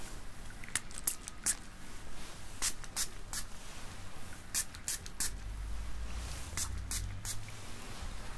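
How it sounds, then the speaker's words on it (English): Repeated short hissing bursts of an aerosol adhesive spray, some quick and some longer, with light handling noises in between. "get a bit of adhesive spray, like this. I'm going to spray that onto your cowl"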